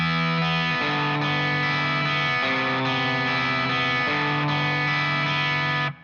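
Electric guitar in a song part, where open strings ring over a sequence of chords as the bass note moves, sustained and continuous with a slight effects sheen, steady loudness and no voice.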